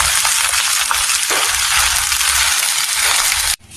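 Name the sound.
stirring fried rice with dried fish in a pan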